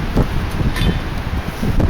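Gusty wind buffets the microphone outdoors during Storm Katie beside a small hexamine burner, a continuous low rumbling roar with occasional louder bursts and no talk.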